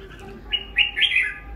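A caged red-whiskered bulbul in its third season of singing gives a few sharp, harsh chirping notes close by in a quiet setting.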